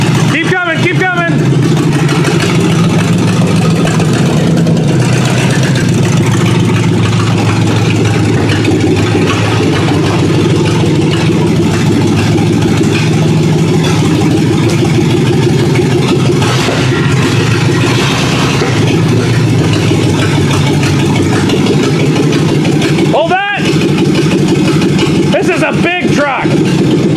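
Chevrolet Suburban truck engine running rough with misfiring cylinders, a loud, steady low rumble throughout with uneven pulsing, and people talking over it.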